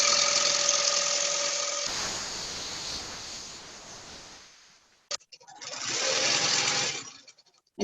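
A long-arm quilting machine stitches a large quilt in a steady, loud mechanical hum that fades into a pause. A sharp click follows, then another sustained run of stitching.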